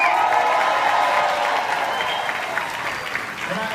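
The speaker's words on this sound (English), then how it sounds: "Give him a big round of applause." An audience applauds for Reverend Al Sharpton, a steady, dense wash of clapping with a few cheers that stays loud throughout before easing slightly near the end.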